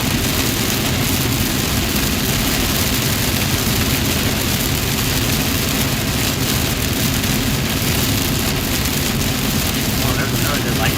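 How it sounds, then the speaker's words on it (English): Heavy rain during a thunderstorm in Dallas–Fort Worth, Texas, pounding down in a dense, unbroken roar, loud and close, like a downpour drumming on a car. "Definitely raining really hard."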